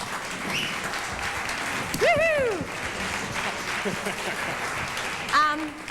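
Audience applause for two performers at a girls' night out show, a steady wash of clapping throughout with whoops and cheering voices rising over it around the middle and again near the end.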